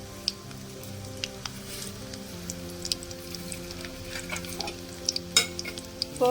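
Crushed garlic and dried red chillies fry in hot oil for a tempering, giving a continuous crackling sizzle with sharp pops scattered through it, close by and with no talking.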